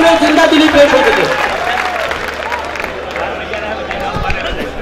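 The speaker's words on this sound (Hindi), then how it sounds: "आगे से पीछे तक एक बार तमाम हजरात जोरदार तालियां बजा दें" Loud applause from a mushaira audience in Sakinaka, a dense clapping wash that fills the whole stretch, with voices and crowd murmur mixed in.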